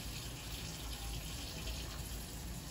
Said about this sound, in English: We're going to just start running them under the warm water